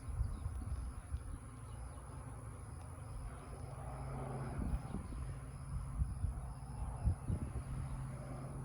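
Calm honey bees buzzing around a water box during a hive removal, a steady close drone with breeze and handling noises outdoors.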